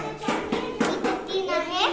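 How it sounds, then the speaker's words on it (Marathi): Children in a classroom clapping their hands, four or five sharp claps at an even pace, mixed with kids' chatter and an adult voice speaking over them. "टाळ्या वाजवा यांच्यासाठी"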